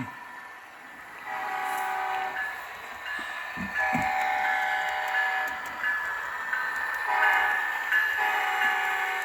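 An HO scale model train horn sounds in several sustained, harmonically rich blasts over steady rolling rail noise, fairly loud and close on an E. Oakland layout with no talk.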